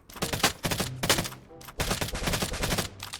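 Gunfire in the battle royale game Free Fire sounds as dense bursts of rapid shots in two close, loud volleys split by a short pause, with no talk over them.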